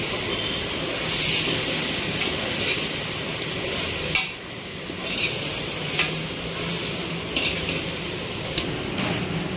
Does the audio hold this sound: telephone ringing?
no